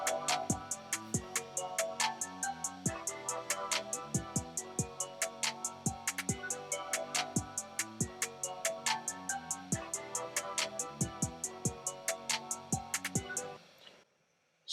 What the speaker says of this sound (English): another basic of the beat is the hi-hat